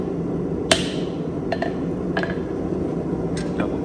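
Hammer blows on a rivet while forging T-tongs: about five sharp metallic strikes at uneven intervals, the first loudest, ringing briefly over a steady background hum.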